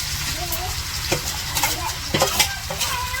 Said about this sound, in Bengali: তো যে তেলের মধ্যে সব কিছু দিতেছে